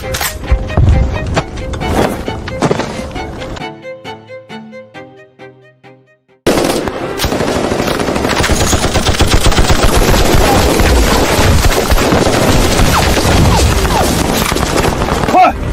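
Dense bursts of machine gun fire in a battle scene, loud and rapid, pausing briefly while music plays before an unbroken stretch of heavy gunfire.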